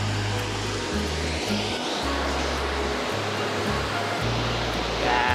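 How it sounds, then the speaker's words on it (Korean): Nakcheonji waterfall pours in a continuous loud rush of falling water, a dense hiss that fills the scene without pause, with a low droning hum beneath it. "이게 낙천지 폭포입니다."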